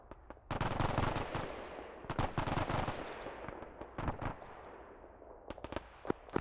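Rapid bursts of machine gun fire in the WW2-era Arma 3 video game, several loud stuttering volleys with short gaps, then sparser single shots toward the end.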